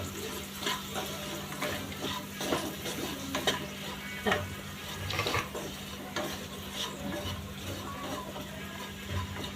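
Spice masala dry-roasting for garlic fry, stirred in a pan with steady soft scraping and faint sizzle, close and even throughout, with a low constant hum underneath.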